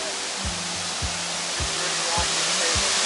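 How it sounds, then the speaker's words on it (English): Steady roar of a big waterfall, broad rushing noise filling the air, with a faint low thumping repeating underneath. "this is by far the biggest waterfall I've ever seen"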